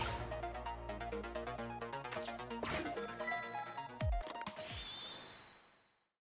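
Telephone ringing in the video game Ghost Trick: Phantom Detective, a synthesized chiming ring set over steady game music, with sharp electronic sweeps near the end before the sound fades out.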